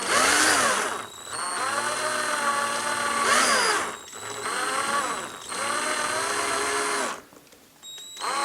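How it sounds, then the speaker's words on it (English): A whining power drill bores out a peg hole in a vintage Darth Vader toy, running loud and close in long, continuous stretches with pitch that rises and falls under load, broken by brief pauses. "So let's go ahead and we'll drill this hole out, and we'll see if we can get the peg fitted"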